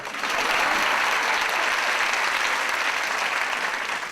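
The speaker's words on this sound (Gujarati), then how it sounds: "એટલે એકવાર મારી પત્ની માટે જોરદાર તાળી વગાડો" Audience applause at a live Gujarati stand-up comedy show: dense, steady clapping from a large crowd that fills the whole stretch without a break.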